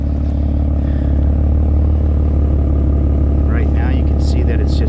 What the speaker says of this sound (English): Right now you can see that it's just idling, so you get a nice little hum from it.